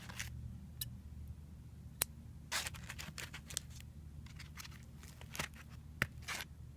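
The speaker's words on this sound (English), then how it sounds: "Scissors." Mortuary-kit scissors being handled, with faint scattered clicks, snips and small metallic ticks, a couple of sharper clicks standing out over a low hum in a quiet room.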